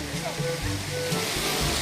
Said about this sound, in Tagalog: Ayun guys, ibang falls.